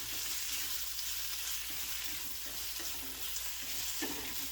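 Spinach cooking in a pan with olive oil, a steady soft sizzle and frying hiss with faint stirring scrapes, close and continuous with no talk.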